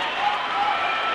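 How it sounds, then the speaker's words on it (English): Bishop Stang fans at a high school ice hockey division final in an arena cheer and applaud, a steady roar of crowd noise with no single voice standing out. "a loud Bishop Stang crowd down to our right"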